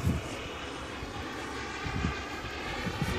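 A Sebart Avanti mini turbine model jet makes a fast pass, a steady loud turbine roar and rush of air with no talking.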